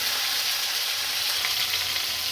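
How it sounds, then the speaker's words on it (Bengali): Tomatoes hit hot oil in a wok tempered with spices and dried chillies, giving a loud, steady, hissing sizzle that fills the whole short stretch without any voices. "এবার কড়াই টমেটো দিয়ে দিচ্ছি"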